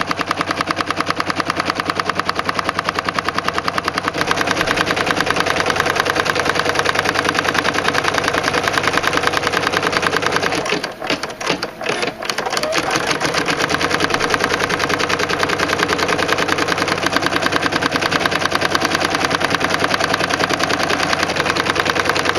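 An embroidery machine stitches a design onto hooped fabric with a steady, fast mechanical whir and rapid needle clatter, running continuously with a brief stutter in the middle.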